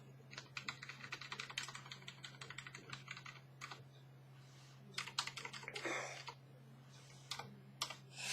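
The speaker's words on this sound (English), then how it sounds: "I am typing, as you might hear." Typing on a computer keyboard gives quick, clustered clicks in bursts with short pauses, close and fairly quiet over a steady low hum.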